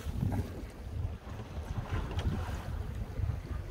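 Sea waves slap and wash around a small fishing boat anchored for the night off Con Dao, with gusty wind buffeting the microphone in a steady, rough wash of low rumble.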